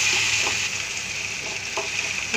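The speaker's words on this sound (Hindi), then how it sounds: "अब आप इसमें टमाटर डालेंगे कटा हुआ। हल्के धीरे धीरे इसी तरह हल्के हाथों से चलाते रहेंगे।" Chopped tomatoes fry with capsicum and paneer in a pan, a steady close hiss of sizzling with faint, gentle stirring scrapes underneath and no talking.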